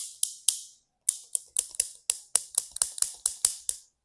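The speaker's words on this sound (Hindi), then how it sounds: "क्लिक किया साउंड पता कैसे आता है, ऐसे" Mouse clicks like those made selecting answer options on a computer-based exam, a quick irregular series of sharp close clicks, a few spaced then a rapid cluster, loud and isolated against silence.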